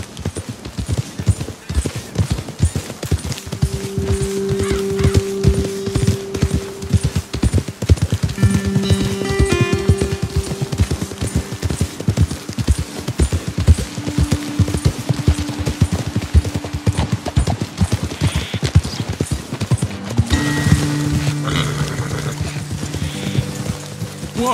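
Horse hooves clip-clop steadily and close for a long stretch in Red Dead Redemption, a dense rhythmic patter of riding with faint whinnies and background game music.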